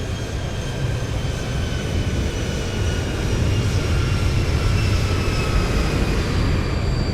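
An airplane flyby in a flight simulator game produces a broad, steady engine roar that swells gradually louder toward the middle and holds, with faint whining tones above.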